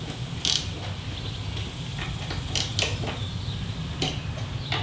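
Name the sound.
tightening Harley handlebar clamp bolts by hand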